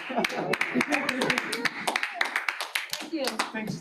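Scattered clapping from a small online bootcamp audience, a few sets of hands tapping out irregular claps for several seconds, mixed with chatter and voices talking over it.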